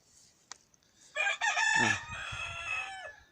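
A pet rooster crows once, close and loud, a long harmonic call with a quieter tail after a brief click.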